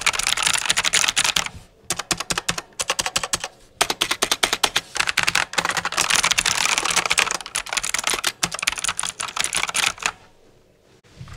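Rapid typing on a budget Aldi mechanical gaming keyboard, recorded with the microphone close, produces dense clacky keystrokes in bursts with brief pauses, loud and alone before trailing off at the end.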